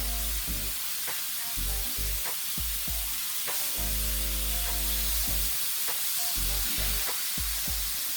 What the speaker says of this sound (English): Now I'm going to go ahead and flip over my steak.